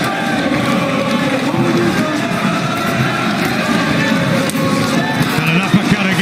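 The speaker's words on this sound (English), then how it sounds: "The crowd getting behind the home favourite" A large arena crowd roars in support of home favourite Anthony Joshua during his heavyweight boxing bout against Kubrat Pulev, a continuous broad cheering swell with commentary voices talking over it.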